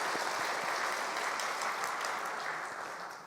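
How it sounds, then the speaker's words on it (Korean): Congregation applause at a New Year special dawn prayer service in a church, steady dense clapping that fills the room and fades slightly toward the end, with no talk over it. "우리 훌륭한 우리 아이들 청소년들 위해서 크게 박수하겠습니다."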